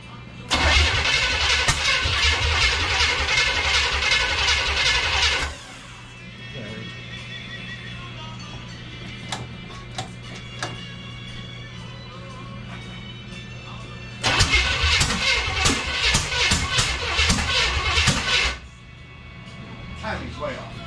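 An Oldsmobile Ninety-Eight engine cranks and churns in two loud extended attempts, with rough, uneven running and a steady hum between them, after a timing adjustment with the timing still far off.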